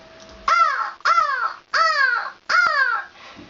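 A girl imitates a crow's caw, producing four loud, harsh calls in a steady rhythm, close and clear with short pauses between them.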